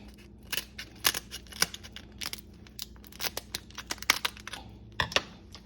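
Kitchen scissors snip through a lobster tail shell. Sharp, irregular crunching snips and crackles come close by but quietly, spread out over several seconds, with no voices.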